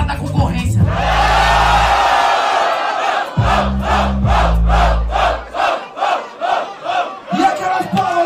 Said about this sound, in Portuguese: E aquelas palmas